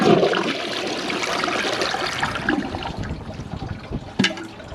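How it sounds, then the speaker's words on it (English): A toilet flushing latex gloves after a clog, a loud rushing swirl of water that drains and trails off into gurgling and a brief clunk near the end. "We'll be back for a second flush."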